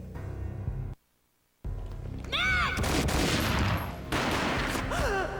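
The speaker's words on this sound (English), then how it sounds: "A gunshot boomed and she fell down in slow motion." Gunfire in the Xbox game Max Payne bursts out after a brief silence, loud and dense, with sharp shots over rumbling, chaotic background action.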